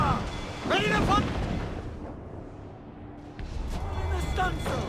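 Ship cannons firing in the video game Assassin's Creed Black Flag, heard as a deep, rumbling boom under shouted crew voices, with a fresh roll of blast noise swelling near the end.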